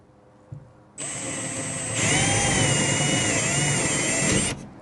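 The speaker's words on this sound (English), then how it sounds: "We're just going to go full send, straight in with the 10mm drill bit." A power drill with a 10mm bit starts up after a brief knock and bores a hole for a car's chassis-mounted splitter, whining steadily at high pitch, rising in load midway, then stopping abruptly.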